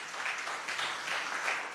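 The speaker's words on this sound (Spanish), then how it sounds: "Y un aplauso también, ¿por qué no?" Church congregation applauding, a steady even wash of many hands clapping at moderate distance, with no voices over it.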